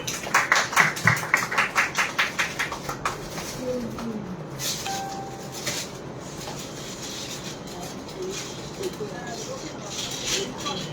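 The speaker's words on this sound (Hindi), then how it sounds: "तो एक बार जोरदार तालियां हो जाए इनके लिए" At an interfaith poetry evening in West Bengal, the audience claps for a special guest: sharp, rhythmic claps come loud at first, then thin out and fade into quiet room murmur.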